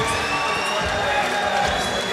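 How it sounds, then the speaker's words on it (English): A crowd at a Cage Warriors MMA fight in Swansea cheers and shouts in a sustained, fairly distant roar, with scattered whoops rising out of the general noise. "And the crowd goes wild"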